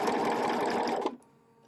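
A sewing machine stitches webbing in a fast, steady whir for about a second, then stops abruptly, leaving quiet room tone.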